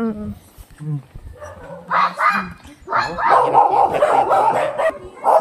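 Dogs bark at Valleypoint Campsite in Tuba, Benguet, giving short, repeated yaps and barks close by. The barking runs under and between people talking nearby.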